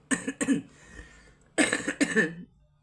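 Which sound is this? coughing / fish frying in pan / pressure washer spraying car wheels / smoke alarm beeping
coughing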